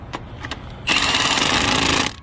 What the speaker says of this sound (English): They say you can't use an impact on these locking lug nuts, but they're wrong. You actually can.